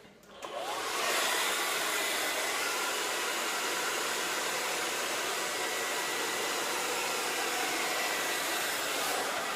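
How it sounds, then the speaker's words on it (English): A blow dryer switches on and runs loud and steady at close range, a continuous whooshing roar while drying hair with a brush, with no talk. "turn the blow dryer around"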